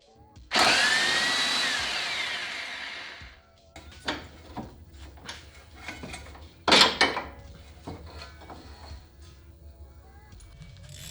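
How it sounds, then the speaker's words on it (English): An impact wrench loosens 19mm bolts joining the strut to the steering knuckle on a Toyota MR2, a loud close whirring burst of about three seconds followed by shorter rattling hammer bursts and tool clatter. "For this, I used an impact wrench to make things a little easier."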